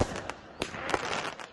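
Fireworks go off during a nighttime celebration around the Fourth of July, several sharp bangs and crackles spaced irregularly over a continuous rumbling background, fairly distant.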